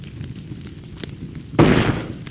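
Sudden explosion sound effect in the Sprite Lab coding tool, a loud burst of hissing noise that follows a quiet stretch of faint clicks and lasts under a second.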